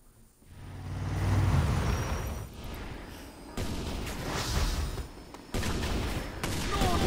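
A minigun in Just Cause 2 fires in long, sustained roaring bursts with short breaks between them, mixed with vehicle and explosion noise.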